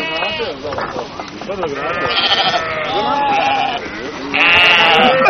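Sheep bleat repeatedly at close range on a farm, the wavering calls overlapping with people talking throughout and growing louder toward the end.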